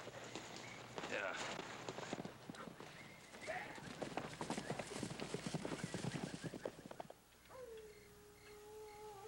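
Horses move at a brisk pace outdoors, their hooves clip-clopping in a fast, uneven patter at moderate distance, the sound fading near the end as a single whinny rises out of the quiet.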